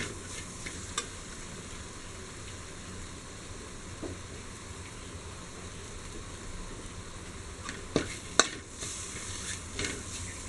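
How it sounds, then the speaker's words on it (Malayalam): Chopped tomatoes stirred in a hot pan for Kerala-style beef biriyani, a steady soft sizzle throughout with a few sharp scrape and clink spikes from the spoon near the end. "ഇനി തക്കാളി ഒന്ന് ഇതിൽ വെന്ത് വരണം, വേണ്ടി ഇളക്കി കൊടുത്തുകൊണ്ടിരിക്കുക"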